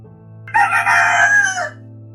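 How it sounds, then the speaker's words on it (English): A single rooster crows once, a loud drawn-out call close by, over a low steady hum. "Outside, he could hear normal sounds returning, roosters crowing, dogs barking"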